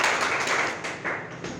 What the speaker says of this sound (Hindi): एक बार ज़ोरदार तालियां चाहेंगे अपने प्रदीप भैया के लिए